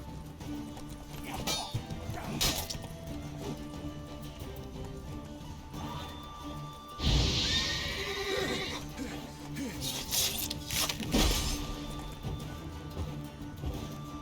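Horses whinny and neigh while hooves clatter in the video game The Witcher 3, with a sudden loud burst midway and a busy, layered background throughout.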